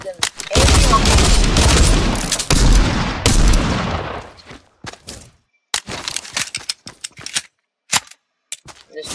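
Pistol gunfire in the video game Fortnite rings out loud and close, first as a dense rapid barrage and then as scattered single sharp shots with short silences between them.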